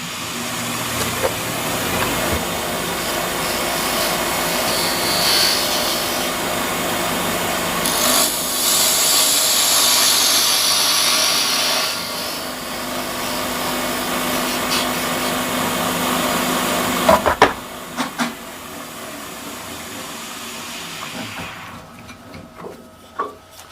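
Wood lathe turning a tenon on a wooden napkin holder, a steady close hum with scraping, rubbing tool contact that swells and eases across passes, then stops near the end with a few clunks.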